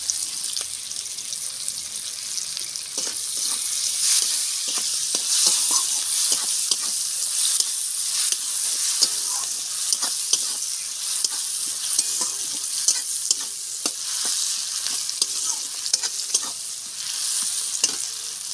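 Onions fry in a generous amount of oil with cumin, salt sprinkled on top, a constant bright sizzle close up, broken by frequent scraping strokes of a spatula as they are stirred, with no talking.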